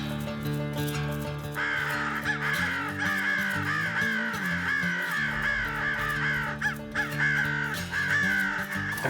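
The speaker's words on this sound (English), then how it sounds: "crows, they're actually nest raiders, and they're particularly hard on duck eggs" Crows cawing during a public land crow hunt in Kentucky, repeated harsh caws in uneven bursts over a sustained musical background, several calls overlapping at moderate distance.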